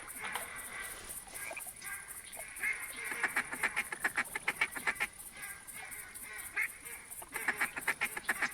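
Flock of ducks on a bayou during a duck hunt, a busy mix of quacks and honking calls with bursts of rapid repeated calls rising and falling, moderately distant, no talking.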